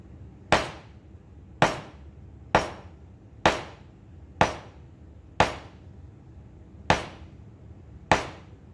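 A large clay slab is lifted and dropped onto a table again and again, giving eight evenly spaced, sharp, close thuds with a short decay after each one.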